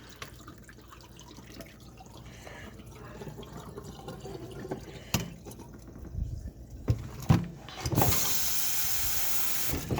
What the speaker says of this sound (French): On va aller rincer encore.